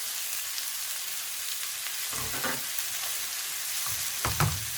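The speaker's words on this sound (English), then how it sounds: "These are 5 small potatoes boiled, and I just chopped them roughly. Add those." Boiled potatoes, roughly chopped, tumble into a pan of onions and peppers frying in oil, giving a steady close sizzle broken by two bursts of clattering and stirring.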